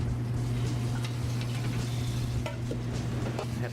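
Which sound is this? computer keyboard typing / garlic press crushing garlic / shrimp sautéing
shrimp sautéing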